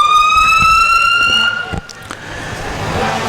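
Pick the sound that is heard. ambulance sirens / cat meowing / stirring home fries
ambulance sirens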